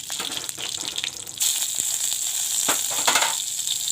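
Dry red chillies and a bay leaf frying in hot oil in a pan, a steady close sizzle that jumps louder partway through and carries on with crackling bursts.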